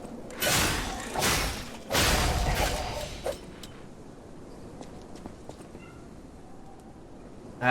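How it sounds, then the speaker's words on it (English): A cat meows a few times during a Lies of P gaming session, the calls coming in clear bursts early on before fading into a quieter room background with soft thumps. "Why do I hear a cat?"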